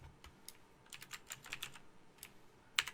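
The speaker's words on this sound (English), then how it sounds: "let's begin by typing class dietfacts" Someone types code on a computer keyboard, producing quick, irregular clusters of light key clicks that sound close but quiet, ending with one sharper keystroke.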